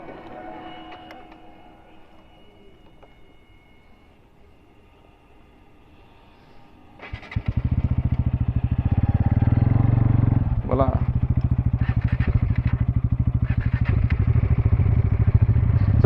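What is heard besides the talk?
Bajaj Dominar 400 motorcycle with Akrapovic exhaust revving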